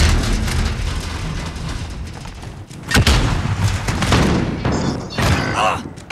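Gunfire in an Apex Legends or Call of Duty match: several sharp shots and heavy thumps scattered over a dense, noisy battle bed, loud and close, with a voice briefly audible.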